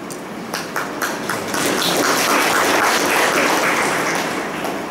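Audience applause in a lecture hall at a Dnyanotsav talk, a mass of dense clapping that builds after the first second and holds steady and loud to the end, with no talk over it.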